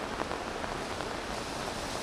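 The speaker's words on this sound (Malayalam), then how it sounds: "സൂപ്പർ മഴയാണല്ലോ" Heavy rain pours down in a dense, even hiss of countless drops striking surfaces, steady and close with no talking.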